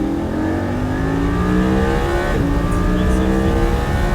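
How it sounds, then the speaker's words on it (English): A high-revving Lamborghini Huracán V10 engine screams steadily and loudly on a Formula 1 track, its pitch climbing and dipping briefly before surging again, close to the listener. "This is a Lamborghini Huracán"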